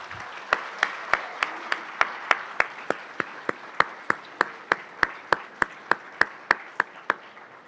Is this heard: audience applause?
yes